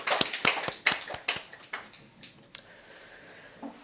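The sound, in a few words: congregation applauding in church service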